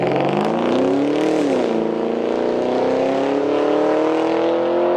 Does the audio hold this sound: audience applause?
no